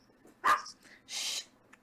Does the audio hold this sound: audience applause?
no